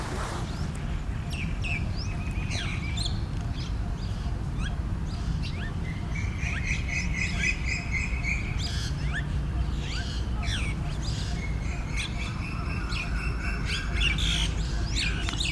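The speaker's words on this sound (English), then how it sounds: "there's a bunch of birds living out of it" Many birds chirp and tweet from a temple structure at Ayutthaya, Thailand, with steady overlapping calls and trills over a constant low ambient hum throughout.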